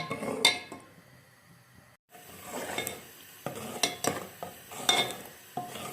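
Chickpeas frying in a pan while being stirred, with a light sizzle under repeated scraping and clinking strokes of a utensil against the metal, close up with no talk.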